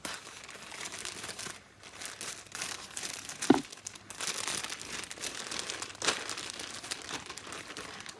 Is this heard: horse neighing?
no